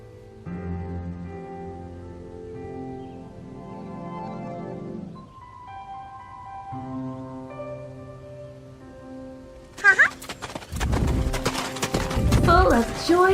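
After a stretch of soft tonal music, a horse-drawn cart clatters in near the end, hooves and wheels rattling loudly over rougher noise.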